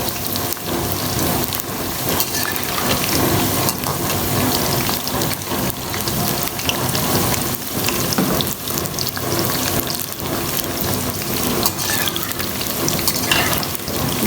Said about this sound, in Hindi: आप देख रहे हैं कैसी शानदार किस्म की फ्राई हो रही हैं।